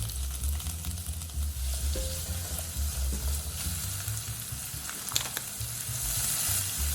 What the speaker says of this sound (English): Add 1 teaspoon of butter to the same pot without washing it. Add the diced onion. Add the sliced carrot.